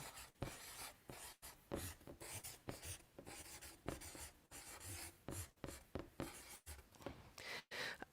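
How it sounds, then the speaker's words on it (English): Chalk or marker writing steadily on a board at close range, a continuous scratchy rubbing broken by short pauses between strokes, with no voice. "I'm going to write this down for you."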